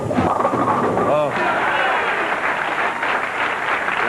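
Crowd applause at a 1984 bowling open, a sustained wash of clapping that swells and carries on while a commentator talks over it.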